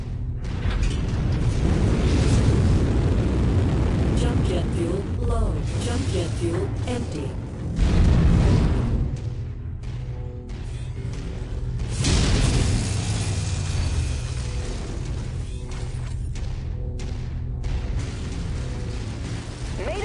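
Missile impacts in MechWarrior 5 thud and rumble amid steady mech combat noise, with several heavy booms spread across the stretch, mechanical clanks and radio-style voices over the top.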